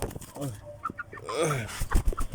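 A young Siamese gamefowl rooster, a native chicken about three months old and tied up outdoors, gives several close, short clucks and throaty calls, mixed with nearby talking.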